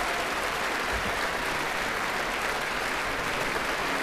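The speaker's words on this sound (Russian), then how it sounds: "Саша, аплодисменты, да?" Applause fills a concert hall, a dense, steady wash of many hands clapping at even loudness from start to finish, with no voices rising above it.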